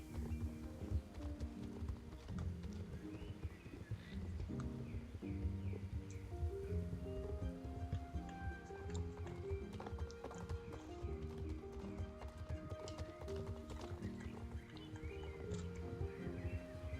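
Horse hooves clip-clop steadily with an occasional neigh in the Star Stable online riding game, set against continuous game music and ambience throughout.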